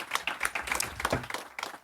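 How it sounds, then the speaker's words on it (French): Scattered hand claps from an audience at a digital audio advertising conference morning session, a light, uneven patter of applause that stays fairly close and moderate in level. "Merci à tous les quatre pour votre intervention ce matin. On peut les applaudir."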